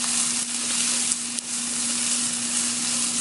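Pear, onions and peppers stir-frying in a hot pan for a spaghetti squash stir fry, an even close sizzle with a couple of faint stirring scrapes and no voices.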